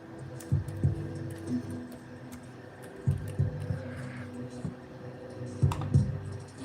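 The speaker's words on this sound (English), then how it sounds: "Give me a second. I'll type it in. I'm a slow typer" Typing on a computer keyboard during a live stream, with clusters of close, soft key clicks coming in three short bursts over a low steady hum.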